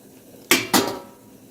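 A metal lid set over a plate of rava papad batter steaming in a pot, giving two quick clattering knocks close by, with no talking.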